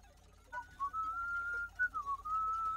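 A clear solo whistle plays the melody of the Efteling theme park attraction Joris en de Draak, one smooth, wavering line sustained over a quiet background.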